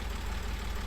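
A tractor engine idling after driving up ramps, a steady low rumbling throb with a regular pulse, close and continuous with no talk.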